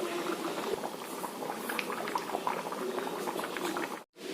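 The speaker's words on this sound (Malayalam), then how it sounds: "തീരെ നന്നായിട്ട് തിളച്ചു." A pot of peanut-and-roasted-coconut theeyal curry bubbling at a vigorous boil, a dense steady burble of popping bubbles heard up close at low volume, cut by a brief gap at the end.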